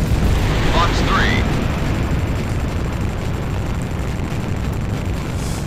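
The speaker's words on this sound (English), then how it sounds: "So those are my cluster missiles." Cluster missiles firing and bursting in the Ace Combat 6: Fires of Liberation jet combat game, heard as a dense, loud rumbling roar of blasts and engine noise with a brief whooshing streak early on, sustained throughout.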